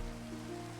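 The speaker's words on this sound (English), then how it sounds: "this rain really came in like the worst time" Steady rain falling in Minecraft, a continuous even hiss of drops with a low rumbling bed, constant and unbroken throughout with no voices.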